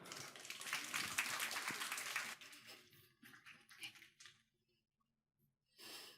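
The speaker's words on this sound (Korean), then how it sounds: "박수 부탁드립니다" An audience at a corporate AI and data presentation applauds, a loud crowd burst for about two seconds that thins into scattered claps, a short silence, then another brief round.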